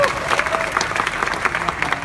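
Clapping from an audience at a food-tech startup pitch competition, a brief burst of dense, steady applause with a voice briefly audible underneath.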